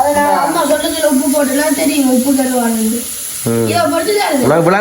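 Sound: sautéing food in a pan

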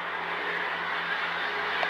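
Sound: lorry passing on road

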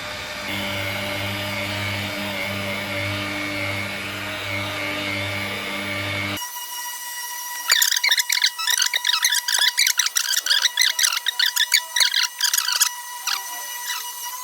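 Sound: polishing machine running on low setting

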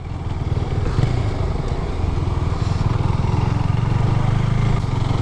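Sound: Husqvarna 401 Svartpilen motorcycle riding

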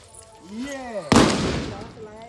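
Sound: Diwali firecrackers bursting

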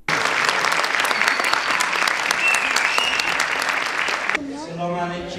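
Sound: journalists applauding a theatre play

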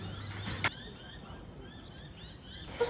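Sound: birds chirping

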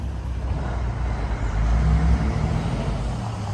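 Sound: heavy road traffic on Burrard Street, Vancouver

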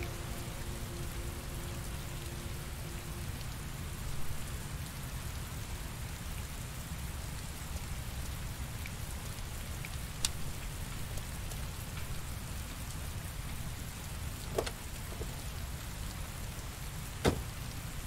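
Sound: rain falling in the video game Heavy Rain

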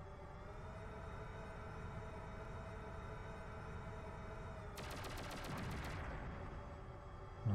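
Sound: enemy shooting in video game Shockwave Assault

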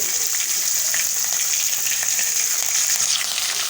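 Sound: green chillies and curry leaves sizzling with mustard and cumin

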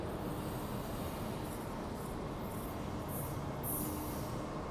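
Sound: Amtrak passenger train passing

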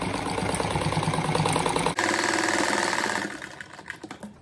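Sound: sewing machine stitching a fabric cat door stop

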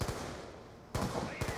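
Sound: gunfire from shooting zombies in the video game Black Ops 2

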